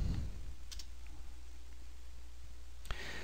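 Quiet clicks of a computer keyboard, a few sparse keystrokes in a near-silent room, two brief clusters spaced apart over faint hum.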